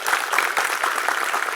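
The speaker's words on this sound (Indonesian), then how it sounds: "Tepuk tangan untuk mereka." Audience applause for performers at an anniversary celebration of a Javanese arts studio: a brief, dense wash of clapping, loud and continuous, with no voices.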